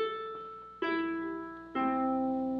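A ukulele played softly, its strings plucked in order as single notes, three clear plucks about a second apart, each ringing and slowly fading, quiet and close with no talking.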